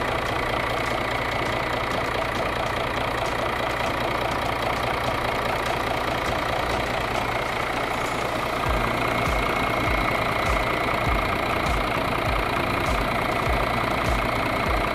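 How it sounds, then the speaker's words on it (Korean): A Mercedes-Benz CLS400d 4MATIC diesel engine idling steadily in the engine bay, an even, continuous hum with a low rumble that deepens slightly partway through, no voices. "엔진 소리 일정합니다."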